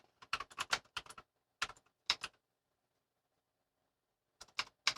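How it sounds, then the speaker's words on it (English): Rapid clicking of a computer keyboard being typed on at a desk, quick bursts of keystrokes separated by pauses, close and fairly quiet. "I'm sorry for clicking. We didn't invest in a quiet keyboard yet."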